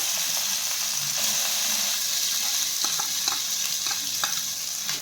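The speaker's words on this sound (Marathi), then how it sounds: "हा छान आपल्याला पाच ते सहा मिनिट परतून घ्यायचा आहे" Ground corn sautéed in a pan for corn shira, a loud, constant hissing sizzle with light ticks and scrapes of stirring scattered throughout, no voices.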